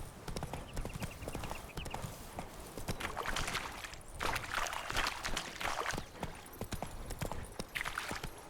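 Rapid, close clip-clop hoofbeats of a galloping horse in The Witcher 3 video game, loud and continuous over game ambience, with no talking.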